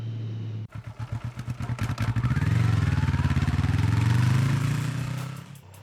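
A restricted 35 kW Triumph Street Triple 765 R rides by up close, its engine note rising through a quick series of revving pulses, then settling into a loud, sustained roar before easing off at the end.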